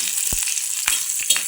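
Green chilli pieces fry in hot oil in a village-style potato curry, a steady close sizzle with a few sharp spatula stirs scraping the pan.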